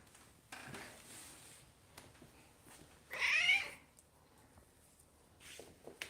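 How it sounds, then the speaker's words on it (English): A cat gives a single loud, piercing shrieking meow, rising sharply for about half a second amid a quiet indoor room with faint rustling before and after. "Along with her piercing shriek of a meow that pierces through your soul."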